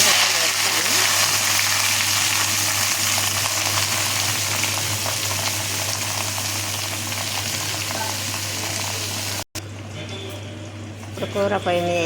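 Amaranth leaves, added after dried red chillies, fry in a hot pan with a loud continuous sizzle over a steady hum; it cuts off briefly near the end, followed by quieter stirring and a voice.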